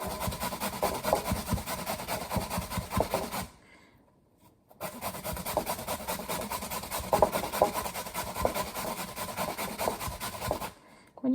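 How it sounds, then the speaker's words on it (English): Potatoes being shredded on a sharp hand grater, four in total for homemade potato patties: loud, close rasping strokes in a quick steady rhythm, running in two long stretches split by a brief pause, with no talking. "So I'm going to use this one and shred all 4 potatoes."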